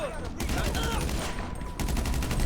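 Gunfire in GTA 5 Online's survival mode sounds out in rapid, overlapping bursts of shots, close and loud, with a short pause before another volley.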